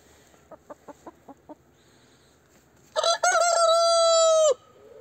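Inside a winter chicken coop, a few soft hen clucks come in a quick series, then a rooster lets out a loud, close, sustained crow.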